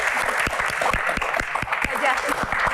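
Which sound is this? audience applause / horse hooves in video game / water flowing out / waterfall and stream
audience applause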